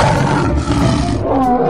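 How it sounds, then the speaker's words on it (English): A lion roaring, a loud, close, rumbling roar sustained for under two seconds with a slight dip midway, heard alone without speech. "Lion."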